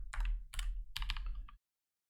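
Typing on a computer keyboard: three short clusters of quick, close key clicks over about one and a half seconds, then silence.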